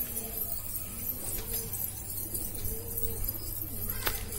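Pigeons in a loft coo softly in low repeated calls over a steady background hum, with a faint flutter and rustle near the end.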